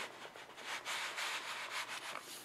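An ink pad rubs back and forth across the surface of a plastic embossing folder, making soft, quiet swishing strokes that swell and fade in a loose rhythm.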